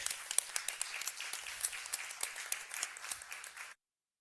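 A room of people at a Rochester city council meeting gives a brisk round of applause, scattered individual claps standing out from the crowd before it stops abruptly.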